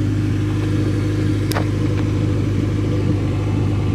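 A Toyota MR2 fitted with a Honda K24 engine is driven, producing a loud, steady, close engine rumble with constant road and drivetrain noise and a brief sharp tick midway.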